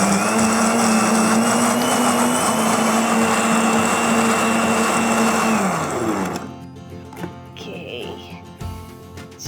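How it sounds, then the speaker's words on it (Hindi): A kitchen blender whirs steadily at high speed blending an oats and cherry smoothie, then cuts off abruptly, leaving faint clinks and a quiet room. "Blend blend blend."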